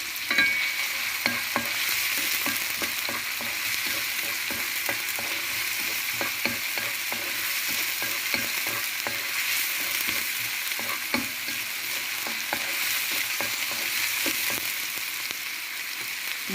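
Garlic sizzles and crackles in a hot pan for spring rolls, with steady frying hiss and repeated stirring scrapes of a utensil throughout, no talking.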